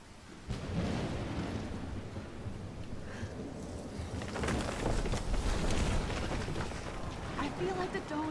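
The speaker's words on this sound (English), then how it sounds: "I've never seen a storm like this in Oregon." A thunderstorm rages in Life is Strange, with steady rain and rolling thunder building to heavier rumbles midway, while a voice talks over it.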